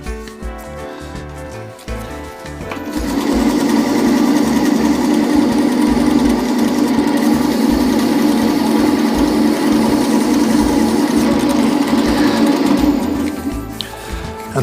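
A zebrano wood pen blank spins on a lathe while 1000-grit abrasive is pressed against it, producing a steady whirring hum with a fine rasp that starts after a quiet moment and holds evenly for about ten seconds.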